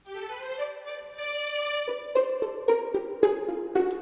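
A string ensemble plays a sustained, smoothly connected legato phrase on a single bow at the opening, and gentle pulsed bow strokes take over partway through. No one speaks.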